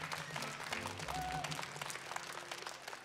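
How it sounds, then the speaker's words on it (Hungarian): Audience at a children's music concert applauds a performer, a brief burst of crowd clapping, fairly quiet, with a few voices and a tonal note mixed in. "Nagyon nagy tapsot neki"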